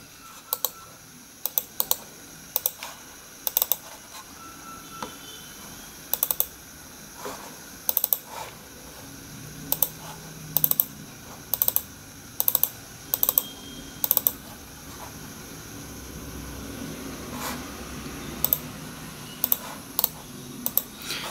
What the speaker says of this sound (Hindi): इसका जो क्लिक का साउंड है वो भी, वो आप एक बार फिर से देख लीजिए